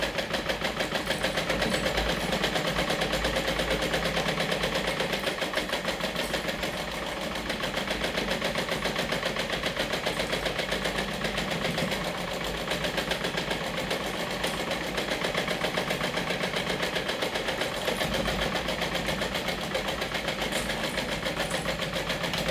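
A sewing machine stitching fabric for a sportswear garment front runs as a continuous, even motor whir with a fast stitching chatter, close and steady for over twenty seconds without talk.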